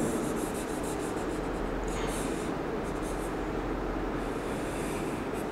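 Writing is rubbed off a board in brisk back-and-forth strokes, a steady close scrubbing hiss during a chemistry lesson, no voices.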